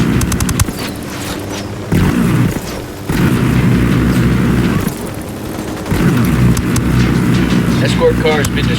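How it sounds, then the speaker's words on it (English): In the Ghost Recon Wildlands video game an escort car explodes with heavy booms and roaring blasts, mixed with rumbling vehicle noise and chaotic combat sound effects. "Escort car's been destroyed."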